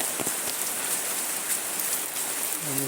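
Steady rain falls throughout, a dense, even hiss of drops striking a surface with no voices, and a faint tonal hum rises only in the final moments.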